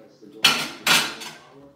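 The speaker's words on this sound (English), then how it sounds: "Do them dishes, son." Dishes and cutlery clatter in a kitchen sink during washing, with two sharp loud clanks followed by a softer third rattle, close by, over faint background noise.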